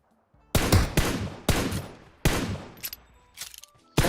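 Gunfire in a battle royale video game: several loud, sharp shots close by, spaced unevenly, each with a decaying tail, plus a few fainter bursts between them.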